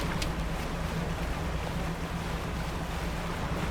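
Boat motoring across open ocean in the video game Dredge, a steady engine drone under continuous wash of waves and wind, loud and unbroken, with no talk.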